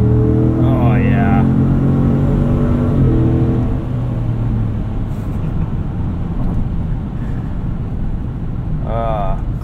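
Chevrolet Tahoe RST Performance Edition V8 accelerating on a night drive, a deep engine drone from inside the cabin that rises in pitch, with brief speech at the start and again at the end.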